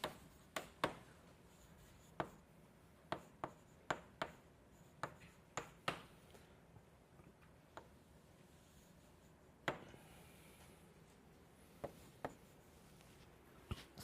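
Chalk or pen sketching on a board during a solid-state physics lecture, a faint, scattered series of sharp taps and short strokes at an irregular rhythm, with no speech.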